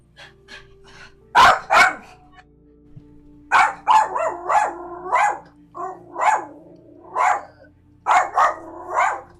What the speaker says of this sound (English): That's Astro Dog.